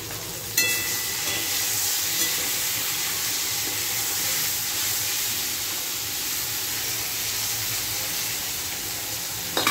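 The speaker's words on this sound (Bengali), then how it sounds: "সজনে ডাঁটা, আলু, বেগুন, টমেটো দিয়ে রান্না করছি" Steady sizzling and frying hiss from a pan of curry cooking with drumstick, potato, eggplant and tomato, constant and close throughout with a faint tap near the start.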